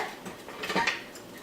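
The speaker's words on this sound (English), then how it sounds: "and just give it a little stir." Instant oatmeal is stirred in a pot of boiling water, giving a few soft metallic scrapes and clinks of a utensil against the pot, quiet and close.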